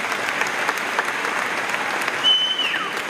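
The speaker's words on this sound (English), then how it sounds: "Let's give them a round of applause." Sustained applause from a high school commencement audience, steady dense clapping throughout, with a brief whistle near the end.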